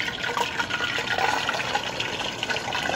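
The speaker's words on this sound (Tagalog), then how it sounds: "mainit ng ating mantika. Lalagay na po natin ang ating manok." A steady, loud sizzle of a whole chicken frying in hot oil, with dense crackling hiss throughout and no talking.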